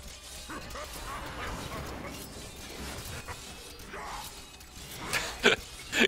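Dog barking in the Diablo 3 game amid a chaotic fight, a few yips and barks mixed with crashes and clanking effects, moderately loud.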